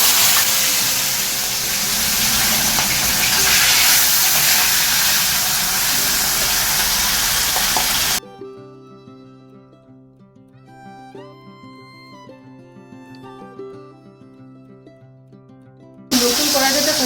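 Salted, turmeric-rubbed fish frying in hot oil in a thin, worn wok gives a loud, steady hiss for about eight seconds. Music then takes over, and the sizzle returns briefly at the end.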